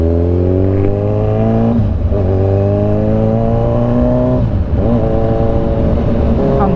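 A motorcycle engine hums loudly and steadily up close, its pitch climbing smoothly through the gears in repeated rising sweeps as the throttle is worked on an expressway ride.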